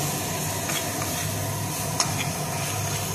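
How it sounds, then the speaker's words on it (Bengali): Mushroom curry with turmeric, Kashmiri chilli powder and red chilli powder sautés in a pan, giving a steady low sizzle with a few faint scrapes of stirring throughout. "তারপরে কাশ্মীরি লঙ্কার গুঁড়ো, তারপরে লাল লঙ্কার গুঁড়ো দিয়ে আমি একটুখানি এটা কষিয়ে নেব।"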